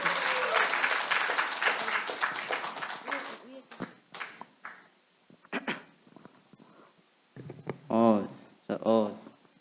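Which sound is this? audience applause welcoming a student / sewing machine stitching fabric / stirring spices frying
audience applause welcoming a student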